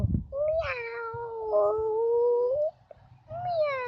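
A person's voice imitates an ordinary cat meow: one long, drawn-out, wavering meow lasting over two seconds, followed after a brief pause by the start of a second meow, close and clear.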